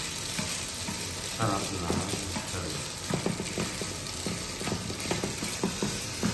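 Food sizzles as it fries golden brown in oil in a pan, a loud continuous crackle with clattering stirring noises on top, and a person speaks briefly over it.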